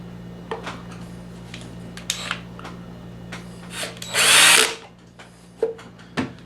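A power driver snugging a short screw into the handle of a jump box battery case: several short whirring bursts and clicks, then one longer loud run of the driver, close and with no talk.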